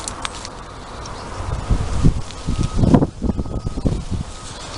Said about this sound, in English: Bit of wind, sorry about that.